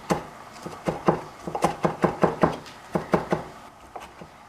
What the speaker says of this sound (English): As you chop them, they turn into little rings.